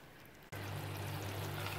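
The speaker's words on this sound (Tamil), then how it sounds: "கரைச்சி வச்சுருந்த புளி கரைச்சலை ஊற்றிடலாங்க" Tamarind water pours into a pot of Kerala-style ginger curry, starting abruptly as a steady close liquid stream that continues to the end.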